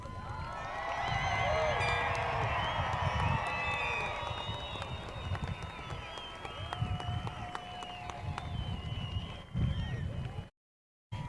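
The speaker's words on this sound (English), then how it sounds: "please join me in a round of applause as we congratulate our class of" Applause and cheering from a large crowd at an outdoor graduation ceremony for the class of 2026, a steady dense roar of clapping with voices and whoops mixed in that carries on for about ten seconds before cutting off.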